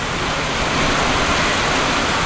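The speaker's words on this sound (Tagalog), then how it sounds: "Kalakas ng ulan, di mo na nararamdaman ah." Heavy rain pours down during a typhoon, a dense, steady, loud hiss of falling water that fills the whole stretch without letting up, with no voices heard.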